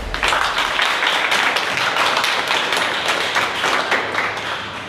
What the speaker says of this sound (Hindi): मैं चाहता हूं अपने लिए एक जोरदार ताली हो जाए।